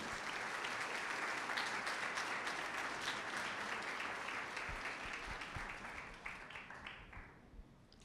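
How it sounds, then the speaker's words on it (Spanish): Church congregation clapping together during a Spanish-language sermon, a full sustained round of many hands that gradually thins and fades toward the end, a few isolated claps lingering as it dies out. "Denle un aplauso al Señor"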